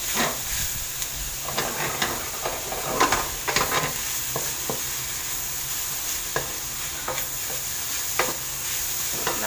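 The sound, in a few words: stirring sizzling spaghetti sauce with sautéed mix and black pepper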